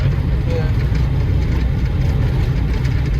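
An Opel car rolls along a gravel road with a window open, producing steady broadband road rumble and low engine hum that stays loud and constant throughout with no clear pauses.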